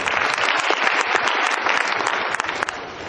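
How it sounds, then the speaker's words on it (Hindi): Loud, dense audience applause at an RCM business seminar in India, many hands clapping vigorously and continuously with close, sharp individual claps throughout. "आपकी जोरदार तालियां।"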